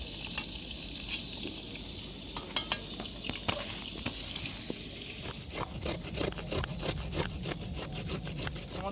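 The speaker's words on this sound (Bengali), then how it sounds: "আলুগুলো ভেজে নেব" Cut potato pieces frying in a pan for khichuri in a village kitchen: a soft, steady sizzle broken by irregular clicks and scrapes of stirring, fairly quiet.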